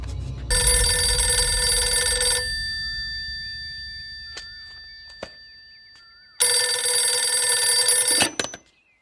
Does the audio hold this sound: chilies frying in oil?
no